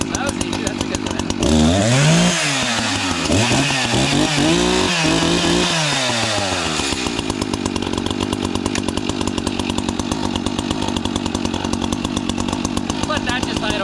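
A vintage small engine runs and settles into a steady idle, a loud, close, buzzing putter with rising and falling revs early on before holding a constant rhythmic drone.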